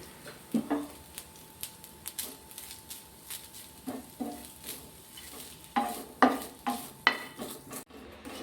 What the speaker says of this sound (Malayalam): ഇനി നമുക്ക് ചൂടായ പാനിലേക്ക് എടുത്തു വെച്ചിരിക്കുന്ന തേങ്ങ ഇട്ടൊന്ന് വറുത്തെടുക്കാം